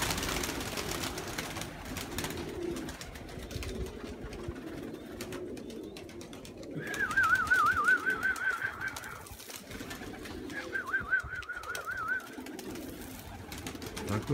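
Pigeons coo faintly in a loft amid rustling and scattered background noise, with two stretches of higher warbling squeaks standing out in the middle; no talking.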